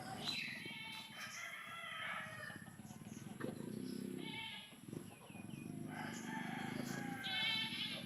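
Gamefowl fighting roosters crowing on a backyard breeding farm, several long crows overlapping from different distances, with other livestock calls and a voice talking faintly underneath.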